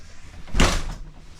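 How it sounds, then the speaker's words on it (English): The entry door of a 2026 Rockwood GeoPro G20BHT small travel trailer swings shut with a single solid, close thud that fades quickly into quiet. "So I'm going to close the door here."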